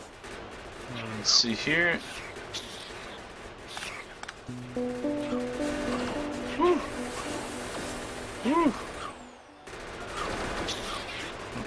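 Gunfire in the factory-building game Factorio, with bursts of rapid shots and a fusillade of impacts over tonal game effects, while someone talks over the action.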